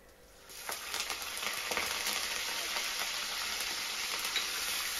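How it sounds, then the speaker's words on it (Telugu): Tempering spices and curry leaves frying in oil in a kadai for beetroot curry, a steady close crackling sizzle that swells after a quieter start and continues without speech. "కడాయి పెట్టేసుకొని పోపు దినుసులు వేసేసుకొని కొద్దిగా కరివేపాకు వేసేసుకొని"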